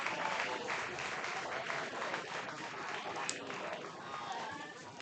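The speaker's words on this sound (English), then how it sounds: "Listen to that hard hat crowd." Crowd at an American Legion baseball regional game, Post 22 Hardhats versus Pierre Post 8, cheering and applauding steadily after a bases-loading bunt single, a dense continuous roar of claps and shouts throughout.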